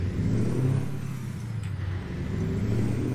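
A 1978 Mack truck with the ENDDT865 285hp engine in American Truck Simulator pulls away in crawler gear, a low steady diesel rumble that holds a fairly even throaty drone throughout.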